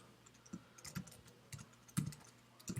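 Keystrokes tap on a computer keyboard in a classroom, a sparse, irregular run of soft clicks spaced about half a second apart, close but quiet, with no talking.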